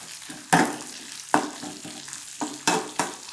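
Green chilies frying with curry leaves in an oiled pan, a steady close sizzle broken by several sharp scraping stirs of a spatula, no voices.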